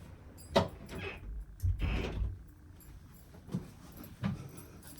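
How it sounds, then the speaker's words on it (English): An indoor door is pushed shut, giving a few close, dull knocks and a heavier thud with a brief scrape. The sounds are spaced over a few seconds against a quiet room. "Let's just shut the door."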